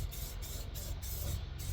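Spray paint hissing steadily from a rattle can onto a 1987 Chevrolet C10 pickup, a continuous close broadband spray with brief gaps, no talk.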